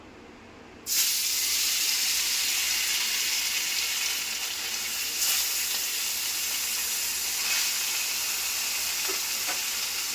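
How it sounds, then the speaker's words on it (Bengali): Parshe fish frying in hot oil, a steady loud sizzle that bursts in after a brief quieter start and holds evenly throughout with no talking. "পার্শে মাছটাকে আগে তেলেতে ভালো করে ভেজে নেব"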